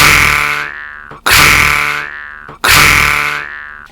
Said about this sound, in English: So now I'm going to roll my R's, this time with a Doromb Blackfire.